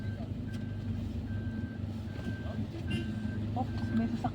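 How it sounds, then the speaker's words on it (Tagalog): A vehicle nearby gives steady, evenly spaced reversing beeps over a low engine rumble on arrival at a beach, with people talking at the same time. "Oops, may sasakyan."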